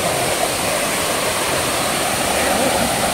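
Dalasari waterfall near Mahendragiri in Srikakulam roars in a loud, steady, broadband rush of falling water over large rocks, heard up close and filling the whole scene.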